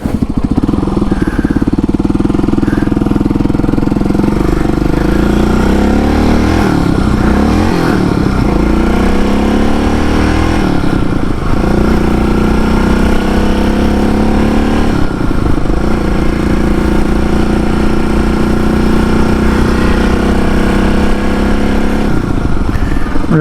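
A dirt bike engine roars loud and near throughout, revving up and easing off as the rider turns, holding a constant droning presence with no speech over it.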